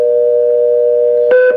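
A rotary telephone fitted with a pulse-to-DTMF converter, heard as a steady electronic tone with a brief, loud dual-tone beep near the end, no talk.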